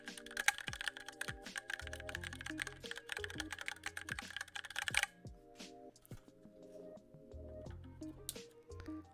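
Mechanical keyboard with Cherry MX Brown switches typed on at a close, quiet distance, giving rapid irregular bursts of soft clacking keystrokes, pausing briefly, then resuming, while a low hum sits underneath.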